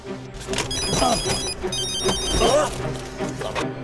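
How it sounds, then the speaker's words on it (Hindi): An electronic phone ringtone chirps in repeated bursts, with people's voices and movement around it. "पहले तुम इस फोन की आवाज बंद करो।"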